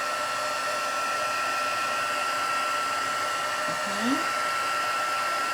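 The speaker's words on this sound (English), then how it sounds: "what I'll do is I'll do the heat embossing underneath" A heat embossing tool blows hot air in a steady, loud, continuous whoosh close by, with a brief spoken word near the end.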